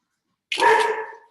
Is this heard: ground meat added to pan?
no